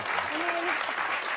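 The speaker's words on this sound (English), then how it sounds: "Just give her another round of applause" Brief studio-audience applause on a talk show, dense clapping that stays level for a moment while a voice speaks over it.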